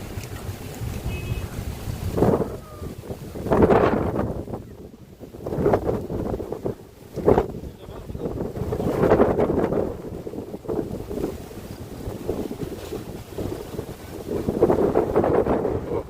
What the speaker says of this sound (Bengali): বাতাস আছে, গরম হাওয়া আসে।